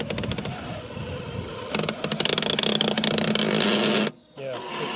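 An MC6 RC car gearbox with stripped gears grinds and rattles harshly as the throttle is applied, a buzzing mechanical clatter that gets louder and denser midway, then cuts out abruptly before a brief restart.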